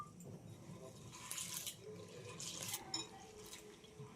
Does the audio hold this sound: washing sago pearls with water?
yes